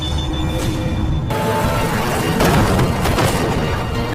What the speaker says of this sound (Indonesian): muncullah Ray yang langsung menabrak dan melumpuhkan beberapa dari mereka